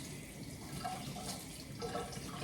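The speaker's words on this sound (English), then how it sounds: "now I'm gonna have to wash this spoon" A spoon is rinsed under a running kitchen tap. The water makes a quiet, steady splashing rush with faint clinks for a couple of seconds.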